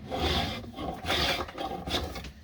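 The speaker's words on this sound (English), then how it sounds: "this is a finely tuned spoke shave, and your control's a bit better" A finely tuned spokeshave shaves and flattens wooden axe handle stock in three long, close rasping strokes, each a scraping whoosh of blade on wood with short pauses between.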